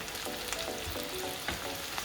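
Sliced onions fry steadily in hot oil over a high flame for biryani birista, a continuous close sizzle with faint crackles and no voices.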